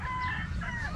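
Chickens clucking and calling nearby on a farm in San Luis, Pampanga, a short burst of bird voices over a low rumbling background.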